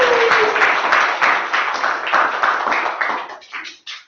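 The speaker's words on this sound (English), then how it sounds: "I think I deserve a bigger round of applause" Applause at a Toastmasters meeting for the Toastmaster of the Year award: a room full of people clapping steadily and loudly, then thinning out into a few scattered final claps.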